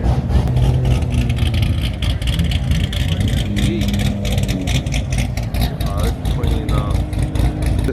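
A car with an aggressive cam rumbles and revs nearby at a car show. A loud, choppy low idle with lumpy pulses and brief rev rises, over steady crowd murmur.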